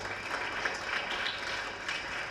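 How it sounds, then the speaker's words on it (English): An audience at an adolescents' conference claps for a guest, a soft, steady wash of applause that carries at a moderate level for a couple of seconds. "Let's give him a clap."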